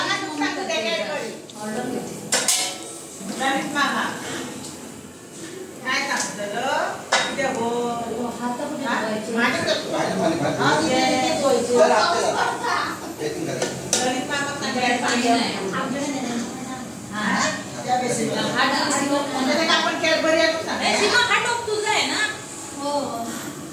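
Lots of overlapping voices fill a busy kitchen where many people are cooking together, with a dense, lively chatter and scattered clinks and clatters of pots and utensils running throughout.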